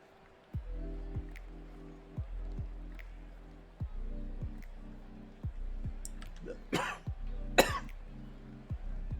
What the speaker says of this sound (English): my COVID cough said, nope